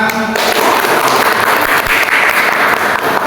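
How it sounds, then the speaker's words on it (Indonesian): A classroom of students claps together in a fiqh lesson, a loud, dense burst of applause that fills the whole clip after a brief voice at the start. "Kita tepuk tangan"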